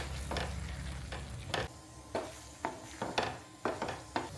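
Egg frying with softened tomatoes, salt and turmeric in a pan gives a steady close sizzle, broken by several sharp scrapes and taps of a stirring spatula against the pan.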